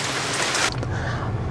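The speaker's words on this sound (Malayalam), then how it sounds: "അപ്പോൾ ചെറുതായിട്ട് ഇങ്ങനെ മഴ പെയ്യുന്നുണ്ട്" Light rain falls during a long drive in a new car, a steady, dense hiss that fills the whole stretch evenly and close by, with no talking.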